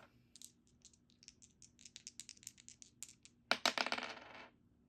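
Dice rattle and tumble across a board game surface, a string of quick light clicks followed by a louder burst of clattering as they land and settle, close and alone.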